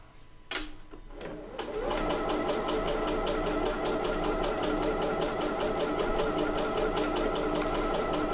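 A Bernette B79 sewing machine stitches a viney, leafy decorative pattern in decorated thread, its steady rapid motor whir and needle chatter starting after a couple of brief clicks and running loud and continuous to the end.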